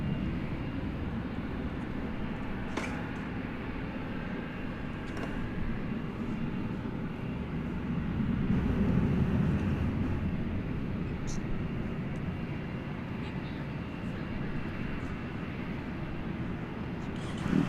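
Airplane taking off from runway 20 left at DFW Airport at night, a sustained, moderately loud engine rumble that swells briefly midway, with faint radio chatter in the background.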